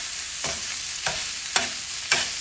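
Sautéed vegetables for caponata are stirred in a single pot, a steady sizzle broken by four evenly spaced scraping strokes of a spoon against the pot, close and clear with no talking.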